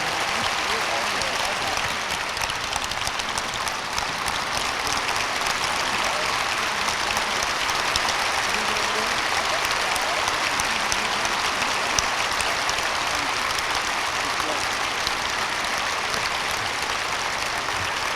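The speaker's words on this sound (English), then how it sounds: "Another round of applause, ladies and gentlemen." Sustained applause from a lecture audience fills a hall, a dense steady clapping roar that holds at even loudness for the whole stretch.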